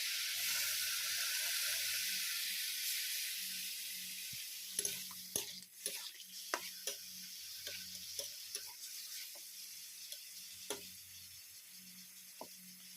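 Bitter gourd sizzles in a pan after a little water is added, a bright steady hiss that fades gradually, broken by a few sharp stirring clicks and taps.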